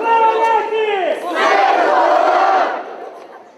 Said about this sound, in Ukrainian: З десяток військових на параді підтримували національний дух, вигукуючи Слава Україні